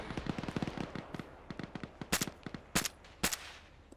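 Gunfire in the military video game Arma: bursts of rapid automatic shots at a moderate distance, followed by three louder, sharper single cracks, with no talk over them.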